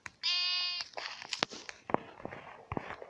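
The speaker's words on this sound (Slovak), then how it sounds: "Ovca." Sheep bleat in Minecraft, a single sustained harmonic bleat near the start, followed by clicks and light game sounds with some brief vocal noises.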